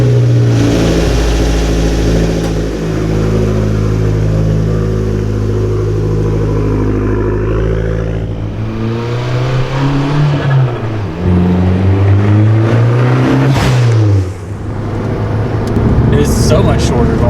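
Fiat 500 fitted with a short shifter accelerating through the gears, the engine droning loud and close, rising in pitch then dropping at each shift, with brief breaks between pulls.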